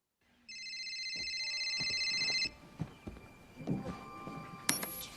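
A telephone rings with a steady electronic trill for about two seconds in a scene from the 2000 Charlie's Angels film, followed by quiet thumps and a handset pickup clatter.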